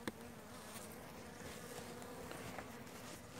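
Honey bees in an open hive buzz steadily on frames of comb being cleared of honey, a dense continuous drone close by with no talk over it.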